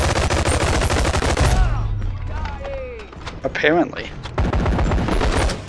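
MP5 submachine gun hip-fired in the VR game Hover Junkers, rapid close bursts of shots at the start and end with a quieter stretch between, a voice speaking briefly in the middle.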